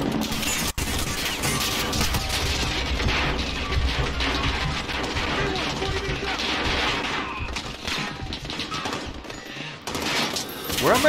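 Dense gunfire in Call of Duty: Modern Warfare, with heavy overlapping bursts of automatic fire and crashing impacts going on continuously and loudly, while a voice occasionally speaks underneath.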